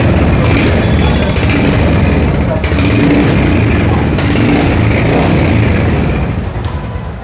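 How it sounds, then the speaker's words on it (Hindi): A Royal Enfield motorcycle in a showroom runs loud and steady after starting, its thumping idle rumble filling the space close to the microphone. "तो अब इस मोटरसाइकिल को एक बार स्टार्ट भी करते हैं, आवाज़ सुनते हैं"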